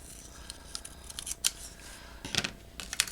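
Scissors snip through a folded paper envelope in several quick, crisp cuts, close and fairly quiet, with short pauses between the snips.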